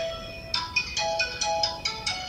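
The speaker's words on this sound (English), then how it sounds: "Randy, your phone is ringing." A phone ringtone plays a repeating electronic melody of bright, pulsing notes, steady and fairly loud, with no talking.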